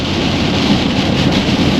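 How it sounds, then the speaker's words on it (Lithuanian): Heavy rain pours down steadily in Poland, a dense, constant roar close by with no break and no voices. "Kalo lietutis Lenkijoje gražiai."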